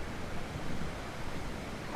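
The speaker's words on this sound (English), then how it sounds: "this waterfall is actually pretty loud" Waterfall in the Ark Ascended video game, a steady broadband rushing roar of falling water, continuous and fairly close with no break.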